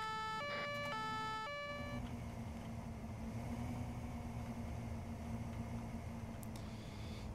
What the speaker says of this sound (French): on a mis le bleu, les sirènes, on arrive à fond de balle